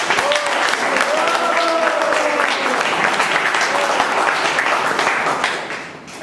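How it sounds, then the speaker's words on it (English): Sustained applause from a meeting audience fills the room, a dense even patter of many hands that holds steady before fading near the end, with a voice faintly audible over it. "A big round of applause."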